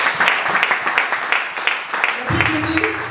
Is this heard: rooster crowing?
no